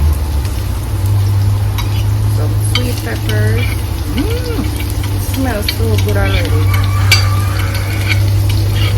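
Onions and sweet peppers sauté in a hot pan with a steady, close sizzle and occasional stirring scrapes over a low constant hum, while a faint voice murmurs in the background.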